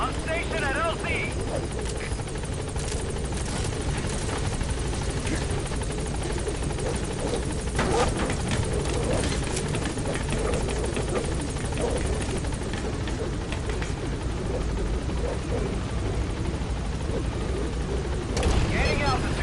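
The Pequod helicopter in Metal Gear Solid 5 hovers at a landing zone, its rotor throbbing loud and continuous while a voice speaks over the steady drone.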